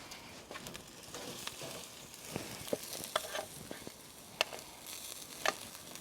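Steak searing directly on glowing Big K applewood charcoal in a PK 360 grill, caveman style, giving a faint, steady crackle and hiss with scattered sharp pops and snaps, heard alone without talk.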